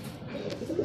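A racing pigeon arriving from a training flight in Sariaya, Quezon coos softly a few times over a low background murmur, close by and fairly quiet.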